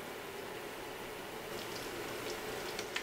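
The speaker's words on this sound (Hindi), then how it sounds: "मीडियम आग पर अभी हमने इनको हिलाना नहीं है, थोड़ी देर हमने इनको ऐसे ही फ्राई होने देना है।" Aloo vada frying undisturbed in hot oil over medium heat, a steady soft bubbling hiss with a few small pops near the end, no voices.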